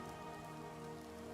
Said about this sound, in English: Oh, listen to the rain and the thunder.